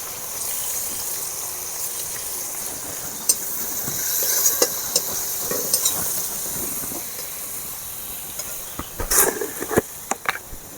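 Ginger paste, green chilli, tomato and ground cumin and turmeric frying in a pan for egg chicken pasta, a constant hissing sizzle broken by sharp clicks and clatters of stirring, close and fairly loud.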